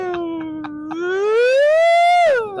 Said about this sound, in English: Yep. Sirens.